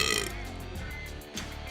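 A single loud, drawn-out burp after drinking beer, close up and rumbling, ending with a short second gulp-like push.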